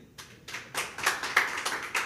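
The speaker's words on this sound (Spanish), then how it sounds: "Coño, aplaudan, ¿vale?" A few people clap in a quick, uneven rhythm, with soft bursts that grow slightly louder over about two seconds in a quiet room.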